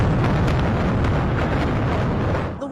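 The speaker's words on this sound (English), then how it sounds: "Explosions could be seen in the sky as missiles fell on Tel Aviv." Loud, dense rumbling of missile explosions as missiles fall on Tel Aviv, with some being intercepted; a continuous roar of booms with no pauses, easing slightly just before the end.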